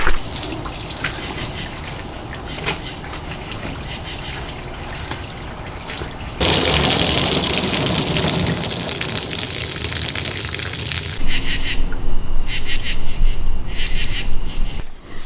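Water sprays and splashes steadily over a car being soaked down during a wash, a loud continuous hiss that shifts in intensity partway through, with no talk.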